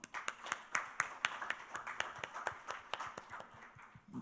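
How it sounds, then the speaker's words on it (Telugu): Applause at a social impact conference, a moderately distant round of clapping with distinct rhythmic claps standing out from the crowd. "మా ఈ చప్పట్లు ఫర్ ఎవ్రీ కార్పొరేట్"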